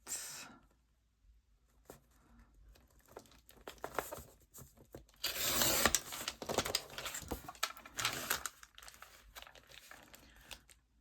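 Edge of a handmade paper bag journal being trimmed, with soft crinkling and crisp tearing-like paper cuts that swell to a louder flurry midway, close and fairly quiet.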